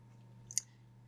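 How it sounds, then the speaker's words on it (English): A single crisp computer mouse click, quick and fairly faint, over a steady low electrical hum while working in Microsoft Project software. "we'll be clicking on this."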